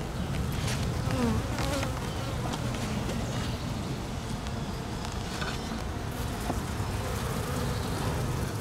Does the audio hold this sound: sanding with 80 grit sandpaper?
no